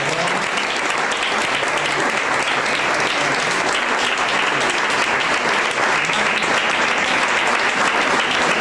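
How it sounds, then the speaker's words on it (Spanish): Loud, dense audience applause fills the room steadily after a book presentation, a continuous wash of many hands clapping close by with no break. "Un aplauso muy grande."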